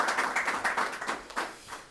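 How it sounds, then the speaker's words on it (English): Scattered hand clapping from an audience at a Wells Fargo NeighborLIFT homebuyer event, a thin, irregular patter of claps at moderate distance rather than a full roar. "we should all give them a collective round of applause for that"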